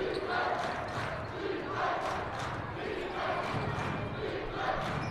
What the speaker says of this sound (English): Fantastic crowd at Shorty's house tonight here at Alterowitz Gymnasium